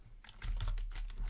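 A short, quiet burst of keystrokes on a computer keyboard as a file name is typed, the rapid taps coming close together and clearly audible in a still room.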